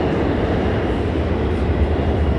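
Subway car on the F train rolling along, a loud, steady rumble with a dense low roar that never lets up.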